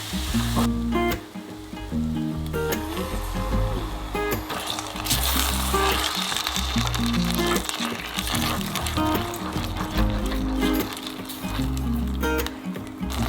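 Garlic and a mixed seasoning sauce sizzle steadily in a pan over low heat, a continuous close frying crackle with occasional stirring scrapes throughout.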